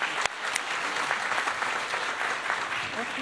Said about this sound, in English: Once again, please applaud the panelists and the moderator.